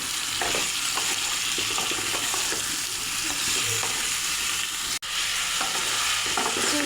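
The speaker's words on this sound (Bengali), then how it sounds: "চিকেন ও মশলার সঙ্গে ভালো করে সবজিটাও মিশিয়ে নিয়েছি" Chicken with vegetables and spices fries in a pan, a continuous even sizzle with light stirring scrapes throughout and a brief dropout partway.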